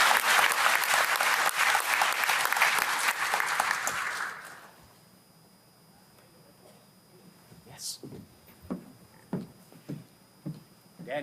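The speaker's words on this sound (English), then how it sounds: "So another round of applause for them." Conference audience at a clinical research symposium applauds loudly and steadily for about four seconds, then the clapping dies away into a quiet room with a few scattered soft knocks and shuffles.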